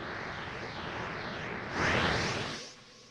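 A faint Dragon Ball Z style aura effect hums and hisses as a steady airy rush, swelling briefly before fading out near the end, quiet and alone.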